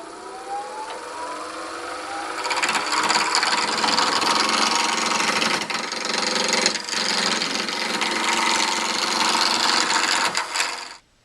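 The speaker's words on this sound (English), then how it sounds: "I'm going to go ahead and cut this into a cylinder and set it at a fairly high speed, somewhere around 1200 RPMs would be fine." A wood lathe spinning at high speed while a pen blank is cut into a cylinder, giving a loud, continuous scraping rush with a faint whine underneath that stops abruptly at the end.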